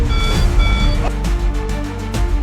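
Steady electronic alarm tones beep aboard a US Navy destroyer under missile attack, over a loud low rumble and noisy background, with a few sharp impacts mixed in.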